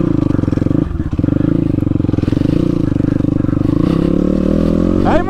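A dirt bike engine running in muddy terrain chugs loudly and close, with a fast pulsing beat and rising revs near the end.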